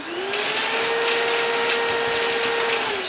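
A Milwaukee M18 backpack vacuum runs at speed 2 with a loud, steady whine and airy roar, unbroken for about three seconds, close by with no talking.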